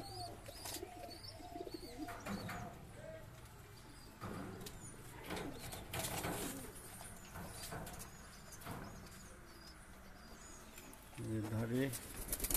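Pigeons in a small loft coo in soft repeated low phrases, with a louder burst of cooing near the end, while someone talks over them throughout.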